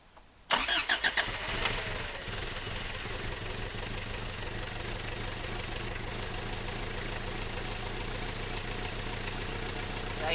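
A vehicle engine at a remote northern Maine camp cranks briefly, catches and starts with the transmission in neutral, then settles into a steady, fairly loud idle with a slight knocking roughness that runs to the end.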